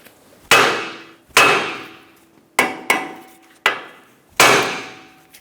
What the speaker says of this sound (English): Give the knuckle a bonk.